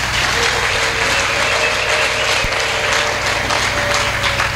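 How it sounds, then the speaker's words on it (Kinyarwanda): A church congregation claps together in a thick, even roar of applause that carries on without a break, with a low rumble underneath and no one speaking over it. "Ngaho twongere tuyakome twese."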